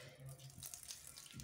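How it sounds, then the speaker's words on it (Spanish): Water poured into a shower floor drain runs and gurgles away in a soft, continuous trickling flow, close by and quiet, with no talking. "Igual le echan su agua y el agua se sigue fluyendo para el drenaje."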